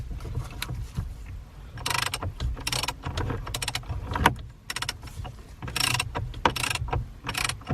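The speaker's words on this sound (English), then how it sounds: "while you torque this this bolt here to spec" Ratchet clicking while torquing the steering wheel bolt on a 2013-2020 Ford Fusion, heard as a series of close, sharp mechanical ratcheting bursts in quick irregular runs with brief pauses.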